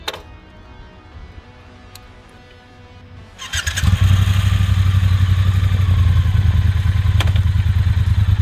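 A Triumph Bonneville T120 motorcycle starts up after a few quiet clicks and settles into a loud, steady, throbbing idle close by.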